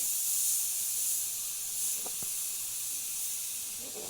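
An airbrush sprays paint over a grim reaper figure's robe, producing a continuous, steady airy hiss close by that holds at an even level throughout, with a couple of faint ticks underneath.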